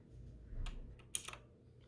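Typing on a computer keyboard while entering Linux terminal commands: a few soft, close keystrokes in quick separate bursts over a very quiet background.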